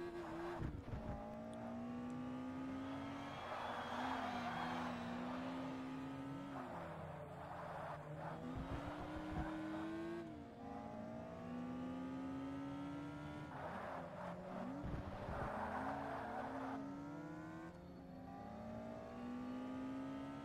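Race cars in Forza Motorsport, an Ultra Lights challenge, roar close and steady, engines climbing and falling through repeated gear shifts with tire squeals and skids along the way, no talking.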